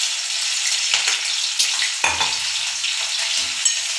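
Chillies sizzle in hot oil in a pan while Maggi noodles are being cooked. The frying hiss is loud and continuous, broken by a few stirring scrapes and knocks, with no voices.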